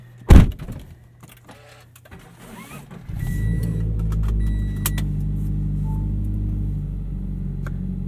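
Subaru BRZ on a cold 20-degree morning: a sharp clunk, a short quiet stretch, then the engine fires and settles into a steady low rumble.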